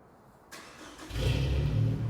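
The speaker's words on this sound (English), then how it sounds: "And the car is started at this point." A car's engine cranks and catches after a plug-and-play remote start triggered by three presses of the lock button, a short starter whir followed by a loud, steady idle close by.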